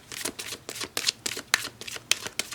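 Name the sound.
shuffling tarot cards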